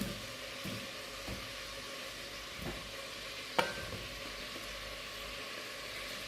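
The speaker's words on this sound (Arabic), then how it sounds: "ونحطوا الدجاج تاعنا يتقلى لنا ملاح" Chicken frying in a pan for a chicken and aubergine tagine, a steady soft sizzle with occasional light clicks and one sharp tap of a utensil, close and alone.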